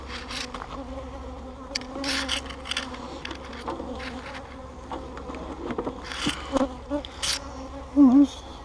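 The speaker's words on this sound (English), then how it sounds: "there's quite a few bees anyway" Honeybees buzz steadily around an open hive during a March inspection, a dense close-up drone with louder swells as bees pass near, including one brief loud buzz toward the end.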